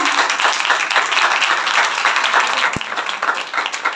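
A crowd claps steadily and loudly throughout, a dense continuous wash of applause with no pauses.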